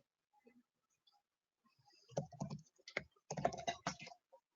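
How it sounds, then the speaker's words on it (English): Computer keyboard typing, entering an email address and name into an online form, starts faintly and builds into dense bursts of close keystroke clicks with short pauses, with no talk. "fill out the who section by typing in your email address and your first and last name"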